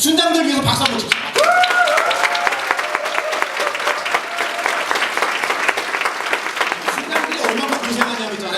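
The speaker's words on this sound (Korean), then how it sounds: "여기 한번 다시 순장들 위해서 박수 한번 칩시다." A church retreat audience claps loudly and steadily for its small-group leaders, a dense sustained burst of applause with some voices and cheers mixed in.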